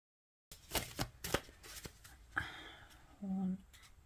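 Tarot cards of US Games card stock being shuffled by hand, a string of close, crisp riffling and slapping bursts, with a faint voice-like tone briefly under the end.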